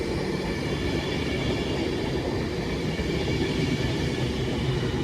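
An Avanti West Coast train, a London Euston service from Glasgow Central, arrives at a station with a steady, close rail rumble and wheel noise that holds level for the whole stretch, with no voices.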